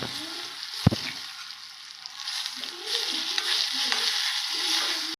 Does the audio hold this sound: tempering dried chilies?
yes